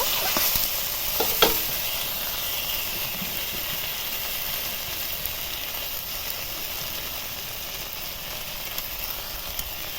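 Okra sautéing in a pan gives a steady, close sizzle and hiss that runs throughout, with a few brief scrapes of stirring near the start and no voices.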